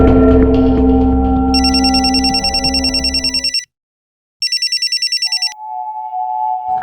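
An old-style telephone bell rings in bright, rapid trills, two long bursts separated by a pause, loud and alone after a music bed cuts out, followed by a faint electronic tone.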